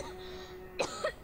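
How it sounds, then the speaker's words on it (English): A character in the animated show Avatar: The Last Airbender gives a small cough, two quick, soft bursts close together against quiet background. "It was just a little cough."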